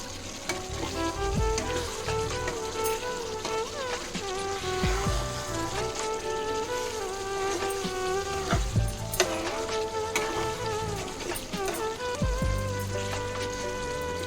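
Chicken curry fries in hot oil in a pan, a loud, unbroken sizzle with occasional stirring scrapes, while music plays steadily underneath.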